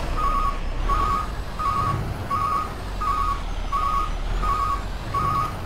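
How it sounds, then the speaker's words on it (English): A truck's backup alarm in the video game American Truck Simulator beeps in a steady, evenly spaced series of eight tones over a low rumbling engine, with no talking. "if you're interested in that backup alarm, that's because they're found on the Steam Workshop"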